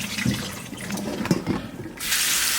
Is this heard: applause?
no